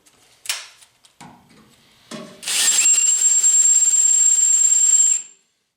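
Power drill boring with a dull 1/4 inch bit while fixing a wobbly 4x4 fender, a few short knocks and scrapes before a steady, loud, whining drill run of about three seconds that then stops.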